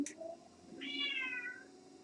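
A single drawn-out cat meow, fairly faint and alone, rising then falling in pitch over quiet room noise.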